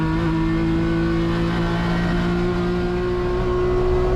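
Onboard a grassroots race car fitted with a plywood front splitter on a track: a loud, unbroken engine drone with strong steady tones as it accelerates and holds speed, close and dominant throughout, with no talking.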